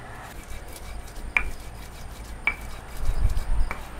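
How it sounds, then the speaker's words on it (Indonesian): Ginger, garlic, salt, coriander and cloves ground on a flat Minang batu lado stone mortar for dendeng lambok: close, low rubbing scrapes punctuated by sharp stone clicks roughly every second, fairly quiet, with no talking. "Uni giling pakai batu lado ya, atau pakai cobek"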